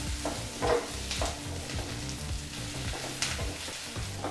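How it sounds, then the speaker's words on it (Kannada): Tamarind and garlic frying on a low flame for an onion chutney, a steady soft sizzle with stirring scrapes running throughout, close by and with no talk. "ಈ ರೀತಿ ಬೆಳ್ಳುಳ್ಳಿ ಮತ್ತು ಹುಣಸೆಹಣ್ಣನ್ನು ಸೇರಿಸಾದ ನಂತರ ಒಂದು 2 ನಿಮಿಷ ಮತ್ತೆ ಲೋ ಫ್ಲೇಮಲ್ಲಿ ಇದನ್ನೆಲ್ಲ ಫ್ರೈ ಮಾಡ್ಕೋಬೇಕಾಗತ್ತೆ"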